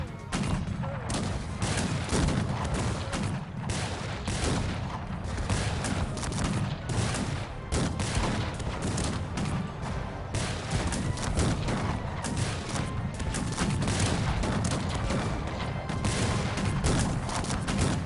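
Cannon fire in the strategy game Cossacks 3, a dense, continuous barrage of booming shots and crashes layered over one another for the whole stretch, loud and with no pauses.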